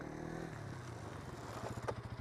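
An NS200 motorcycle doing a stoppie: the engine note drops from a steady drone into a low, rapid pulsing as the bike brakes hard, close and fairly loud, with no voices.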